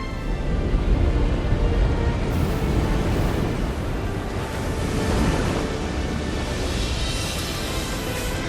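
A great wall of water rising in The Last Airbender film surges as a continuous, loud oceanic roar with wind-like hiss, sustained and unbroken throughout with no talk.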